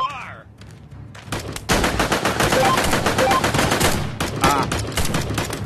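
Rapid automatic gunfire bursts in the Cactus Cowboy: Desert Warfare video game, loud and close, with a brief lull before a sustained volley and another burst near the end.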